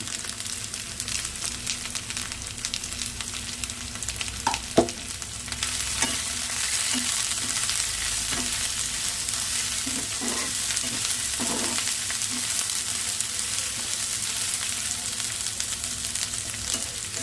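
Ginger and onions frying with turmeric over low flame for egg burji give a steady, close hiss of sizzling oil, broken by a few light stirring knocks, with no voices.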